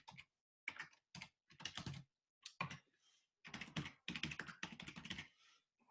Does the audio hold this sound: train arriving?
no